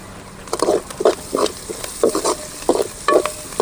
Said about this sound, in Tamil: வெங்காயம் நல்லா வணங்கட்டு நல்லா பொன்னிறமாக வணங்கணும்